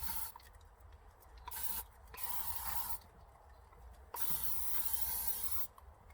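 Disinfectant sprays out of a can in several hissing bursts of one to two seconds each, separated by brief pauses, close by and fairly quiet.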